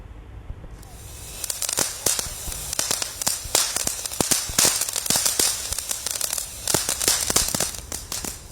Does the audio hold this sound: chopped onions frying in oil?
no